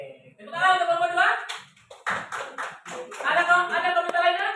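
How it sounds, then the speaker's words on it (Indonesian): A classroom of students claps briefly for a student group, a short cluster of claps sitting between stretches of voices talking and calling out. "Tepuk tangan untuk kelompok 2."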